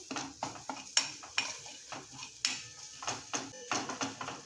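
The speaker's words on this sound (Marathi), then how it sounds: "छान आधी आलं लसूण परतून घ्यायचं, सुगंध येईपर्यंत" Ginger and garlic sautéing in a pan for a brinjal and green pea dish, with repeated scraping and stirring clinks of a spatula against metal over a soft, steady sizzle, close and alone.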